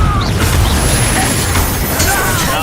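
Casting Confringo in the Hogwarts Legacy video game sets off heavy booming crashes under a continuous dense rumble of spell effects, with a speaking voice mixed in.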